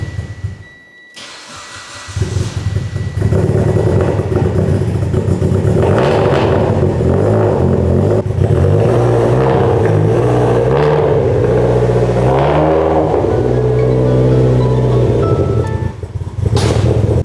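A Toyota MK4 Supra on a stock motor cranks and fires up after sitting idle, then runs loud and close, its idle rising and falling with several revs over the following seconds.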